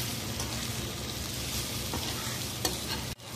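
Leftover idli being stirred in a pan with oil and a light sprinkle of idli podi gives a continuous close sizzle with soft scraping, ending in a brief clunk and a short dip in sound.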